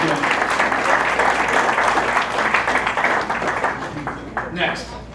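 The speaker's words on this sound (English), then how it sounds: "How about one more round of applause for Mr. John Nucci?" A room full of hands claps at a Kiwanis club ceremony, a loud, dense and sustained round with a steady hum underneath, thinning out toward the close.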